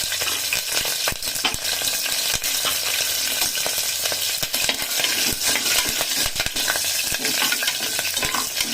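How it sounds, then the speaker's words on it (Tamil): Green chillies fry in hot oil with a steady loud sizzle and crackle, sharp pops of splattering oil breaking through, while a utensil stirs and clinks in the pan; no one speaks. "பச்சை மிளகாய் போட்டு கலரும் போது பார்த்து பண்ணுங்க. மேலே அப்படியே தெறிக்குது, ஆயில் சூடாக இருக்கிறதுனால அது தெறிக்குது"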